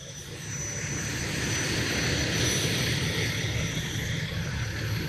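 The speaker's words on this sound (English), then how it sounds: "2005 E1 engine." A 2005 E1 fire engine rolling past in a fire department anniversary parade in Wappinger Falls, NY, its steady engine roar swelling as it nears and passes, with broad rushing noise and no talk.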